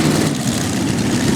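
A high-horsepower pulling tractor roars with a dense, loud engine drone, its right rear engine running rich, a steady low rumble with no break.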